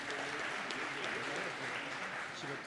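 Audience at an awards ceremony for economic innovation in Nancy gives steady applause, a full, continuous roar of many hands with some voices audible underneath.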